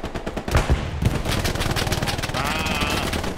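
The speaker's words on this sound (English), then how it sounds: "Ah, machine gun. Where's that? I hear you shooting him." Rapid machine gun fire from a World War II shooter game, Hell Let Loose, rattling loud and continuous with overlapping bursts and distant gunfire throughout.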